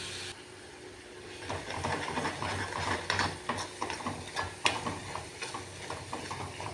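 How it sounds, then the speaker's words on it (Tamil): Garlic sautéing in a pan until browning, a steady soft hiss with clinks and scrapes of stirring throughout, fairly close and moderately loud, no voices. "பூண்டு கொஞ்சம் நேரம் வதங்கிட்டுங்க."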